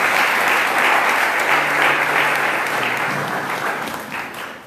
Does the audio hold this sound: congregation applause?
yes